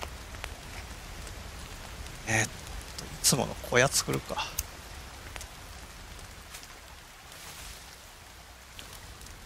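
Steady rain falls across the wilderness of the survival video game The Forest, a constant soft hiss in the background while someone talks briefly over it.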